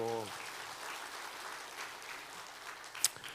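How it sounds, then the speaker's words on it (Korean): Congregation applauding during a Korean church worship service, a steady broadband clatter of many hands that fills the short clip at moderate level after a brief voiced tone at the start. "박수."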